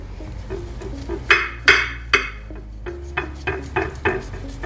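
A knife saws through an air-fried Scotch egg on a plate, producing a series of close scraping strokes and light clinks against the dish at an uneven, deliberate pace.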